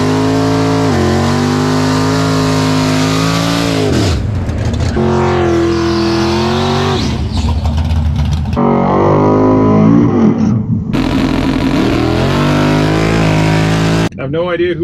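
A Tesla Plaid drag racing a Mustang at Showtime Dragstrip, loud engine and motor roars rising and falling in long sweeping tones, with crowd or announcer voices mixed in throughout.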